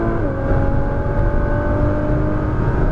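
A Nissan GT-R's engine roars steadily and close as the car accelerates hard on a race track, a dense, loud, unbroken drone lasting a few seconds.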